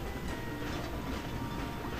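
A train rolls steadily along in the Ratchet and Clank video game, a continuous dense rumble with a faint rhythmic rattle holding an even, loud level throughout.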